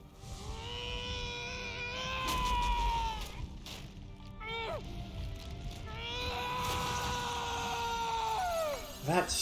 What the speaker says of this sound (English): That scream, Jesus.